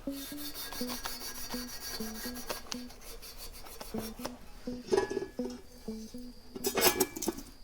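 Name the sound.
Scotch-Brite pad scrubbing gasket residue off metal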